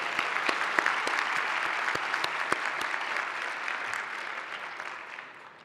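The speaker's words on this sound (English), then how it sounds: "This is when we clap." A graduate commencement audience bursts into applause, dense clapping with a few sharp, louder claps standing out, sustained before gradually fading toward the end.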